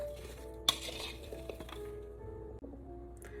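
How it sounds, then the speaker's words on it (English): Roasting veggies tossed with garlic powder: quiet clinks and scrapes of a utensil against a bowl, one sharp tap, then soft stirring rustles, close and faint. "we're just gonna go ahead and stir those up, toss the veggies"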